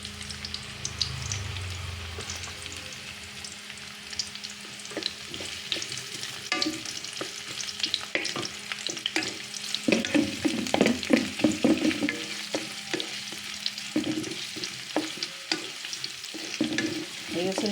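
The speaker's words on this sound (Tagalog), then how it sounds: "Lagay na natin yung sibuyas." Sliced onion frying in a hot frying pan gives a steady sizzle, with repeated scraping and stirring strokes that grow busier midway, close and fairly loud, with no talk.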